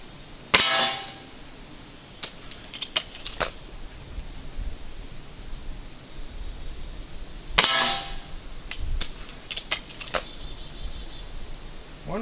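Pellets from an Umarex Buck Mark air pistol strike a metal sign at close range, giving sharp metallic pings and clangs in two loud clusters with scattered lighter hits between them.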